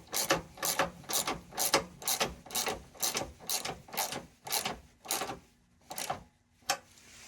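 Ratchet wrench tightening the strut brace nut on a Subaru Crosstrek, a steady series of about a dozen sharp, evenly spaced clicking strokes up close, slowing slightly toward the end with short pauses.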